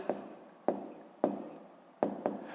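Pen writing an answer by hand on paper during a 5th-grade maths exercise: a handful of quick scratching strokes in an irregular rhythm, close and quiet.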